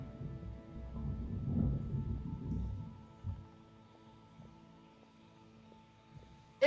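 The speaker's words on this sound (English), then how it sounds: "Oh, and now here's the thunder." Distant thunder rolls as a low, soft rumble that builds and fades over a few seconds in a quiet setting, faint and far off, ending with a short sharp sound.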